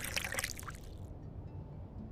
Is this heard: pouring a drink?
yes